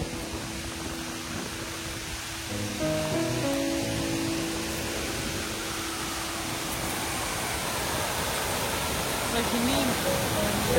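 A waterfall in Switzerland rushes as a steady, broad roar that grows slightly louder after a few seconds, with people talking beneath the constant flow.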